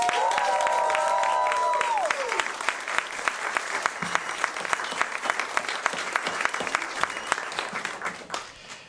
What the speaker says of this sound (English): I know you've been clapping, but one more time for that incredible cast and crew.